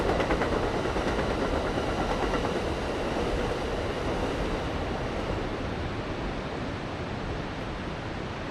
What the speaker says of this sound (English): Next is the southbound Amtrak Pacific Surfliner.